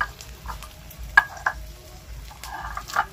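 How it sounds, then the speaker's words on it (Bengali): Garlic crushed into a coarse paste, heard as a few sharp knocks and soft grinding scrapes spaced irregularly against quiet background, close and moderately loud. "আর রসুনটাকে আমি একটু বেটে নেব, এটাকে একটু বেটে দিতে হবে"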